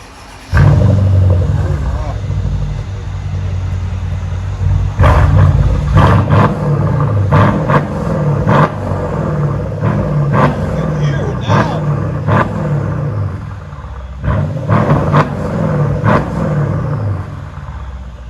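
A 2013 Mercedes CLS 550 with a twin-turbo V8 and dual straight-pipe exhaust through an X-pipe revs hard in repeated loud bursts, its deep rumble swelling and dropping close by, with people talking faintly at times.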